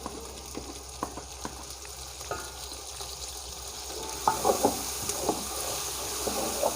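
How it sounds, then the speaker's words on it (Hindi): Tomatoes go into frying ginger-garlic paste for Punjabi karhi pakora. A steady, close sizzle runs throughout, punctuated by clinks and scrapes of stirring that grow busier toward the end. "अब हम इसके अंदर टमाटर डालेंगे।"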